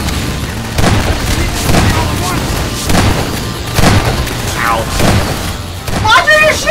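Gunfire in the Half-Life 2 Episode Two video game, with repeated heavy booming shots about once a second, loud and close, mixed with game voices and a player talking.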